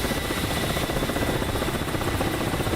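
Helicopter rotor and turbine noise from Ka-50 and Mi-24 gunships in the combat flight game DCS: Black Shark, a continuous loud, close chopping drone with steady blade beats and no talk.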